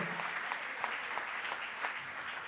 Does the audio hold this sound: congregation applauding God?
yes